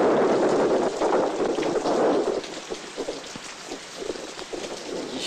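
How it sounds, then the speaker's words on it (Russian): Steady heavy rain pours down throughout a thunderstorm, with a loud dense rush easing slightly partway through, and low rumbles of thunder mixed beneath the downpour; no voices. "Эту грозу я вызвал, потому что все молнии подчиняются мне."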